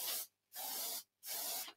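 A hair treatment spray fires three short, close hissing bursts with brief pauses between them, clear and alone.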